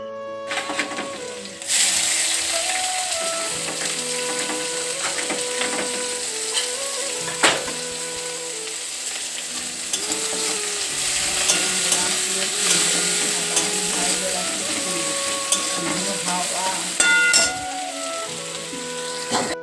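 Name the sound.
frying leafy greens with garlic in oil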